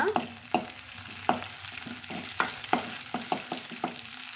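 Onions sautéing in a pan until golden, a soft sizzle broken by regular scraping knocks of a stirring spoon, about a dozen sharp taps, close and fairly quiet.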